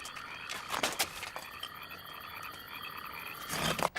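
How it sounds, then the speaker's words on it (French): A chorus of frogs croaks in rapid, overlapping bursts, loud and close, with a dense pulsing texture throughout and no voices. "Qu'est-ce que c'était? Des grenouilles."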